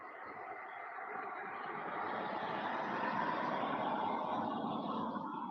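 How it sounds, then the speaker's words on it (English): Traffic passes on a motorway as a broad, distant road roar that swells gently and rises slightly toward the end, with no talk. "Oh, now I can hear two cars, I think."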